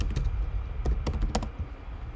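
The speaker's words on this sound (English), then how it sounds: "I can press the N key on the keyboard and I can just start typing in my new idea." Someone types on a computer keyboard, short irregular clicks of individual keys over a low background hum, fairly close and quiet.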